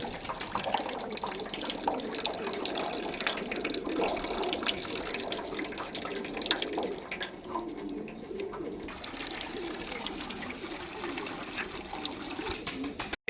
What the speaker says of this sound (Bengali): নিম পাতার পানি দিলাম